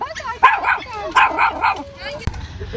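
Dogs bark and yip in short bursts at a dog park, fairly close, with a sharp bang near the end.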